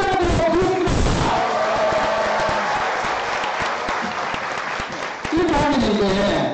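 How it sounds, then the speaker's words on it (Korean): Audience at an education curriculum talk-concert forum claps and cheers loudly, with voiced shouts rising above thick sustained applause. A brief dip is followed by a renewed surge near the end. "이렇게 말하면 박수를 치는 겁니다. 알겠습니까? 박수 함성."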